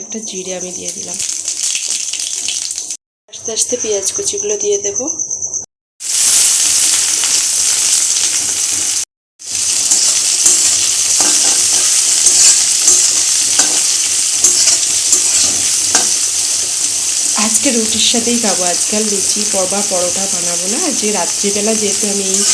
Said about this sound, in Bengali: একটা শুকনো লঙ্কা দিয়ে দিলাম আর একটু জিরে দিয়ে দেব ফোড়ন হিসাবে